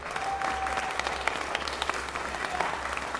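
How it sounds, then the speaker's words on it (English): Applause from attendees at a Los Angeles city council meeting, a steady wash of many hands clapping with a low hum beneath and a few sharper claps standing out. "And another round of applause for the Have Prosperity Market from CD10."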